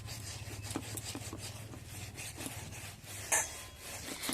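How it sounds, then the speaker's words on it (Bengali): Orange peels are scrubbed with salt while being washed, giving soft, faint, repeated gritty rubbing strokes over a low background hum, with a brief brighter clink near the end. "নুন দিয়ে খুব ভালো করে ঘষে ঘষে ধুয়ে নেব"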